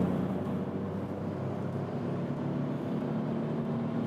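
A small engine in a 2016 Vauxhall/Opel Astra K drones steadily as it accelerates in third gear from 80 to 110 km/h, a constant low hum with road noise heard from inside the cabin, no voices.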